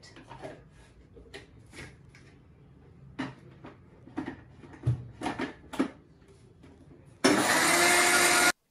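Scattered clinks and light handling noises, then a loud blender whirs abruptly into a steady grinding roar near the end, grinding chickpea sambar spices with water into a paste.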